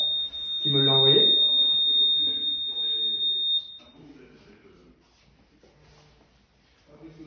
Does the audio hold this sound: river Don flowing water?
no